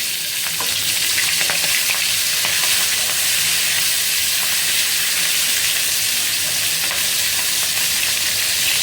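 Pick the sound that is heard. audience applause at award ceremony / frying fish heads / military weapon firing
frying fish heads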